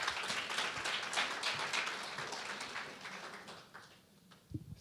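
At a drug policy conference opening, a faint round of applause from the audience pattering lightly, thinning and dying away by the end with a brief knock at the close.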